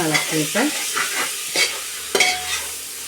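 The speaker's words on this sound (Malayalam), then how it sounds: "ഇങ്ങനെ ഒന്ന് ഇളക്കി കൊടുത്തിട്ട്" Tomatoes and curry leaves are stirred in a hot pan, giving a light sizzle with several sharp, close spoon scrapes and knocks spaced irregularly. No one speaks.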